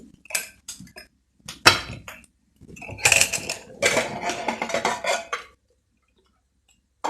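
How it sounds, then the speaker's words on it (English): Metal clatter of a pressure cooker lid being unlocked and lifted after cooking pumpkin for Kerala erissery, a few sharp clinks and scrapes in short bursts, then a longer rattling stretch before falling quiet. "Now I have released the pressure. I will open the lid."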